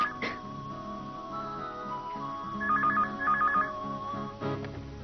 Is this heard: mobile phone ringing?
yes